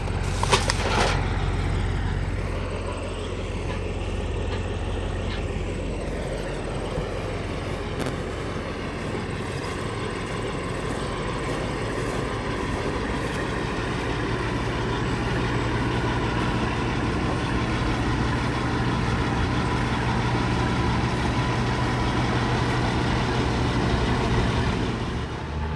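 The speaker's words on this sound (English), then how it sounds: "This is one of those intersections here in Kansas that you could set at and record beautiful trucks all day long" Trucks rolling through a rural intersection near Dodge City, Kansas: a steady, loud low engine and tire roar lasting throughout, with a heavy rumble building and passing early on, no talking.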